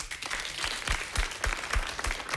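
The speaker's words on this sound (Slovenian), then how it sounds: "zvedel si je en aplavz" A television studio audience at a talk show claps in steady, dense applause with a few sharper individual claps standing out, moderately loud for a couple of seconds with no talking over it.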